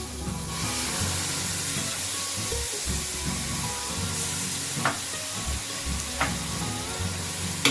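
Ginger frying in a pan gives a steady, dense sizzle and hiss throughout, with a few brief sharper crackles near the end and no talking.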